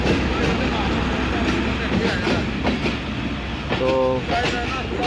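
Pakistan Railways' Allama Iqbal Express pulls into Kot Lakhpat station, Lahore, with a steady rumble of rolling wagons and clattering wheels, a brief squeal near the end, while someone talks over it.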